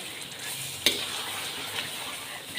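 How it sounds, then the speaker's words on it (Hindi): Tomatoes being mashed and stirred in a karahi for black pepper chicken, with a steady close-up sizzle of hot oil, one sharp clink of the utensil against the pan, and a few softer scrapes. "अच्छे तरीके से इनको आपने मैश करना है।"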